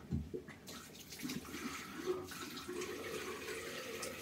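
Hot tap water running from a faucet over a safety razor at a bathroom sink, a continuous, fairly faint rushing and splattering flow with small bumps as the razor moves under the stream, no voices.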